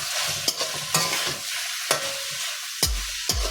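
Onions with a little salt get stirred in a hot pan: a close, loud sizzle punctuated by several sharp spatula scrapes and knocks at irregular intervals, and no voices.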